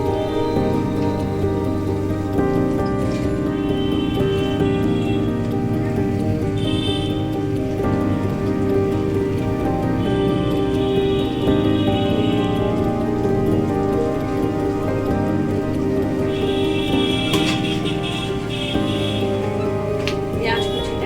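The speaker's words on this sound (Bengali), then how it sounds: "পেঁয়াজ কুচিটা আমি একটু ভেজে নেব" Chopped onion fries lightly in a hot pan, giving a loud, dense, unbroken sizzle that holds steady throughout, close up.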